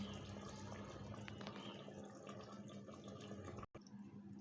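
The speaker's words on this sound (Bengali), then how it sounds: "আমি এখন পরিমাণ মতো পানি দিয়ে দিচ্ছি ঝোলের জন্য।" Water pours steadily into a pressure cooker of beef curry for the gravy, a continuous liquid wash that cuts off abruptly near the end, then resumes more faintly.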